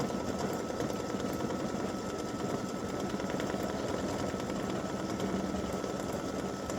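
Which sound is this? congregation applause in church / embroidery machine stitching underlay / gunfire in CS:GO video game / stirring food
embroidery machine stitching underlay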